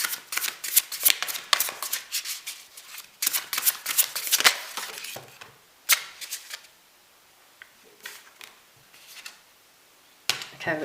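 Tarot cards are shuffled in a series of crisp riffling bursts, close and fairly quiet, with short pauses between rounds and no talking.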